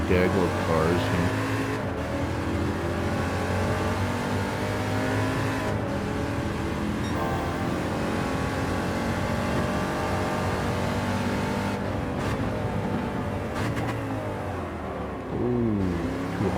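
Touring car engines in a Gran Turismo 7 race, a pack of cars droning and revving with steady tonal whine and shifting pitch, loud and continuous, with someone talking over them.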